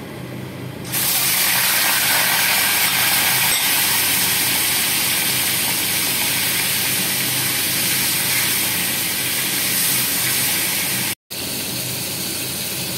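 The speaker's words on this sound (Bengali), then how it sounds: "এই চিংড়ি মাছের মধ্যে আমি খালি নুন দিয়ে এটা 5 মিনিট মতো সিমে করে এটা ভেজে নিচ্ছি" Prawns seasoned only with salt fry in white vegetable oil in a kadai, giving a loud, steady, hissing sizzle that holds evenly and cuts out briefly near the end.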